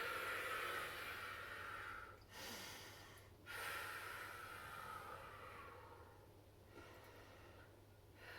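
Breath is exhaled audibly during a spine extension exercise on a ball, a long airy exhale near the mic with brief pauses between breaths over a low steady hum.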